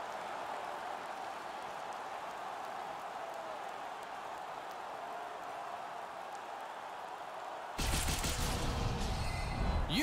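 An ice hockey crowd at an AHL Calder Cup playoff game in Utica bursts into a loud, sudden roar of cheering after a goal, following a stretch of steady arena murmur.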